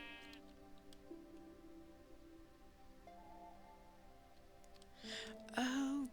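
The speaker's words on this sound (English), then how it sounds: "Look at the sheep! The bighorn sheep," A bighorn sheep in the Minecraft modpack Craftoria bleats twice near the end, wavering calls rising over soft sustained background music in the game.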